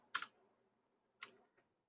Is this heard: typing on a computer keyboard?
yes